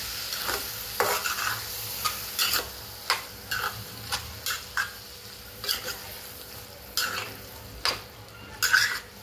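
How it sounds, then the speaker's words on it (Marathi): Squid is stir-fried in masala in a pan, with repeated close scraping stirs over a steady sizzle. "मी आता माकुले टाकून घेते। सर्व टाकायचे आपल्याला। हे पण व्यवस्थित मसाल्यात परतवायचे।"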